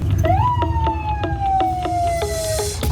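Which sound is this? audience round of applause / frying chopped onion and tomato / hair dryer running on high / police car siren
police car siren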